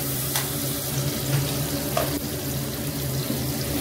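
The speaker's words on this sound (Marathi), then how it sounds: "अद्रक लसूण ऍड करून छान भाजून घ्यायचंय।" Tomatoes with ginger and garlic fry in a pan for vegetable rice, a close steady sizzle with faint clinks and stirring scrapes and no voices.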